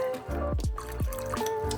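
Filtered tap water pours into a container to mix a paper-conservation solution, a close, gurgling stream with bubbly glugs and falling drips over a steady liquid trickle.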